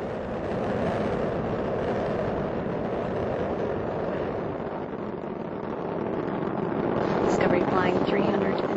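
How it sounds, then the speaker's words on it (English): Space Shuttle Discovery's engines thunder in a steady, distant roar during launch ascent from Kennedy Space Center, throttling down through maximum pressure, a broad continuous rumble that swells slightly near the end. "Discovery's engines are throttling down as the orbiter passes through the area of maximum pressure on the vehicle."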